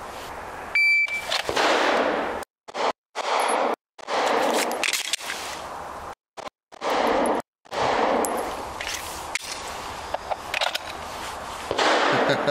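Rapid strings of Glock 45 pistol shots fired on an outdoor range during a stop-and-go shooting drill with a red-dot optic mounted, loud sharp bursts separated by short silent pauses, a few beeps from a shot timer mixed in.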